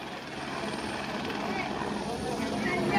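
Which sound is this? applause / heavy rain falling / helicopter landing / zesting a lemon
helicopter landing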